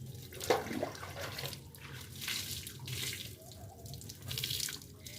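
Water splashes and pours while a buffalo is bathed outdoors with buckets of water, giving soft, irregular splashes and trickling at a moderate distance, fairly quiet, with no talking.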